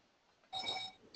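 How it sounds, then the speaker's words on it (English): A phone rings once in a short electronic trill that starts abruptly, holds a steady bright tone for about half a second, then stops, heard indoors against quiet background. "that's my phone. My husband's supposed to get it."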